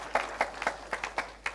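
A quiz tournament audience applauds briefly, a scatter of distinct claps ringing out in an uneven rhythm, fairly faint and without talk.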